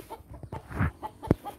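Young pullets about four to five months old on a farm give a few soft, close clucks and short calls over a quiet background.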